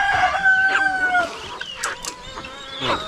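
A rooster crows loudly at close range while farmyard chickens cluck around it, with short bursts of calls overlapping through the brief moment.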